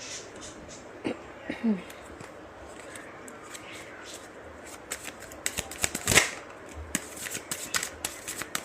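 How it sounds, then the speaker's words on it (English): Tarot cards pulled from a deck and shuffled close by, giving quiet scattered riffles that build into a quick burst of crisp flutters and taps near the end, with a faint low murmur underneath. "I'll first pull out all of the cards"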